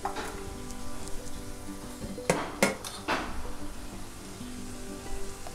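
Onion, ginger, garlic and chilli stirred in a frying pan for a green tomato bhaji, with a steady sizzle and a few sharp clanks of a utensil against the pan partway through.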